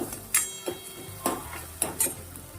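Spices and tomato stirred in a pan, with a spoon clinking and scraping against metal in several sharp separate knocks over a low sizzle, close and without talk.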